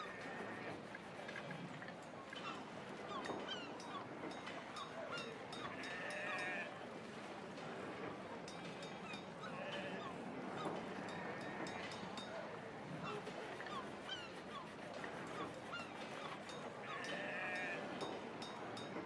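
Sheep bleating in a village-building video game, repeated bleats recurring every few seconds over a steady bed of game ambience and music, with a voice talking intermittently throughout.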